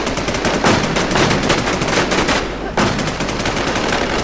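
Rapid automatic gunfire in the video game Infestation, a dense stream of loud close shots that briefly stops and then resumes, with faint voices mixed in.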